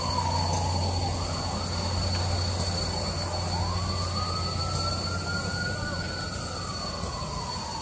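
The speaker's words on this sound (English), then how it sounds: "now I'm going to keep recording for as long as I possibly can to catch this train heading out" Steam locomotive GSMR 1702 pulling out of Dillsboro with its train: a steady mechanical rumble beneath a sustained whistle-like tone that drops, then rises and holds in pitch, continuous and fairly close throughout.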